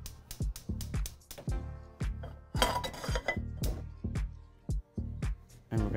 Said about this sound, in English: we're gonna put our pan on.